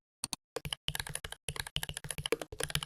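Someone types on a computer keyboard, a quick run of close, crisp key clicks in short bursts with brief pauses, quiet and alone.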